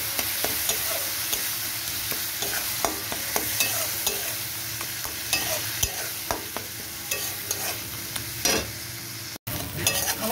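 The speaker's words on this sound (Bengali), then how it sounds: "দিয়ে এবার এগুলোকে সবগুলোকে একসাথে কষিয়ে নেব।" Masala with salt and boiled tomato is sautéed in a pan for a fish-roe fritter curry. A spatula stirs and scrapes steadily over a continuous sizzle, close up, with no talking.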